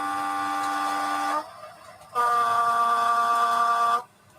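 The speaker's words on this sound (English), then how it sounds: "Okay, the horn sounds like this." A Thumper diesel train horn blows two loud, steady, harmonic blasts close by, the first about 1.4 seconds and the second about 2 seconds, separated by a short quiet gap.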